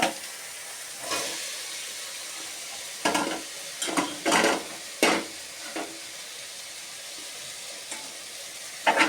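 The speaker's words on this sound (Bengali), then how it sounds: "এবার আমি সেদ্ধ করে রেখেছি ফুলকোটা, এটা এবার দিয়ে দেবো।" Boiled, squeezed cauliflower tipped into a pan of frying spices, giving a low background sizzle broken by several sharp bursts of clatter and hiss as pieces land and get moved around.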